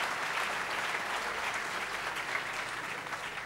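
Audience at a talk applauding in a steady, dense wash of clapping, moderately distant and sustained throughout, with no voices over it.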